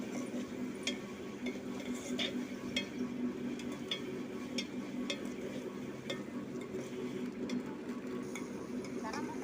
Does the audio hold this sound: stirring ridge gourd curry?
yes